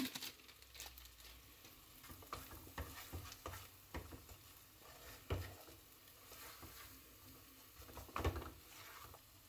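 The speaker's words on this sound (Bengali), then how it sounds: "মশলাটা একটু ভাজা ভাজা হয়ে গেছে," Spices frying in a pot for haleem give a faint, steady sizzle, with scattered stirring scrapes and soft pops throughout. No one speaks.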